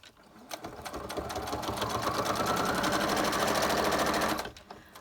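Sewing machine running a straight stitch around a window pocket frame, a fast mechanical whirr that ramps up and holds for about four seconds before stopping, close and alone.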